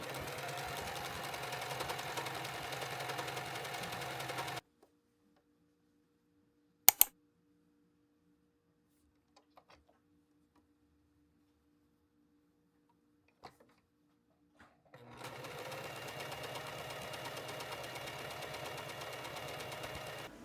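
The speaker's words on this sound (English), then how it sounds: "I'm going to serge the raw edges on the sides and the bottom hem." A serger runs steadily for several seconds sewing raw fabric edges, stops into near silence with a couple of clicks, then starts up again and runs on.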